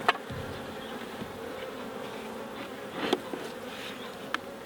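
Honey bees buzz around a vandalised hive, a faint, steady hum with a few brief louder passes close by, no voices.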